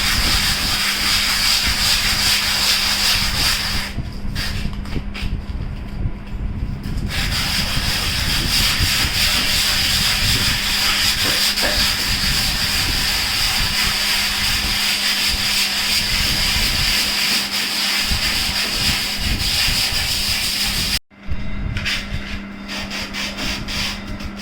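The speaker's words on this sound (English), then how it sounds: "I'm going to start sanding down this whole chair" An old rusted metal chair is sanded down in circular strokes, giving a loud continuous abrasive rasp that runs almost without a break, with one brief pause near the end.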